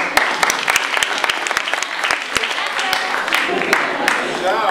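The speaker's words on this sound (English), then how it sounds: "Round of applause," Applause from a group fills the whole stretch, a steady patter of many hands with a few sharp individual claps standing out, fairly close and even in loudness, with voices murmuring underneath.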